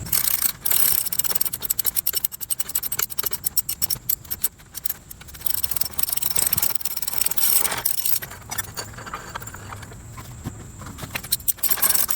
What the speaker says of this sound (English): if you're like me, you have a ratchet